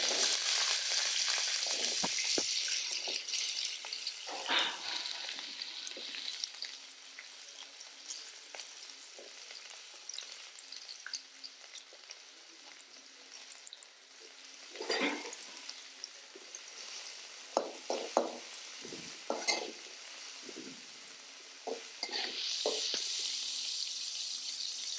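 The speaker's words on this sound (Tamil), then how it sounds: "நல்லெண்ணெய் ஊற்றி எண்ணெயை நல்லா வதக்கி எடுத்துக்கணும்." Pirandai (adamant creeper) sautéing in sesame oil in a pan, giving a steady close sizzle with occasional scrapes and clinks from stirring, and a few brief louder bursts of crackle.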